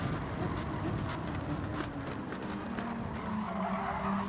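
Racing car skidding on track with tyre squeal and engine roar as it is hit from both sides by other cars, a steady loud rush of motor and tyre noise throughout, no clear single impact standing out.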